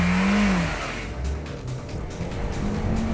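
An Audi A4 engine with a throaty APR aftermarket exhaust revs up and falls back, loud and close, with a steady low rumble between the revs.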